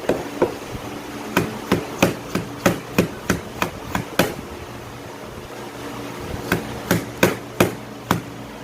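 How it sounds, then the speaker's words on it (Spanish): Knife chopping green chile de árbol finely on a cutting board for Mexican salsa, a quick run of sharp, evenly spaced taps with a brief pause midway, close and alone over a steady appliance hum. "Chile de árbol verde para que quede delicioso la salsita mexicana. Me gusta picarla bien finita"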